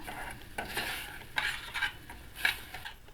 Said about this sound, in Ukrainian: Даю ще одну ложку і перемішую.